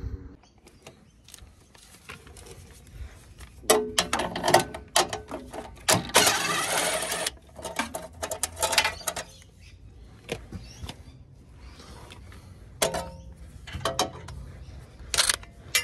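Bolts come off the heat shield under a Land Rover Discovery 4 (2.7 TDV6 / 3.0 SDV6) in a series of close ratcheting clicks and metallic rattles, irregular bursts separated by quiet gaps.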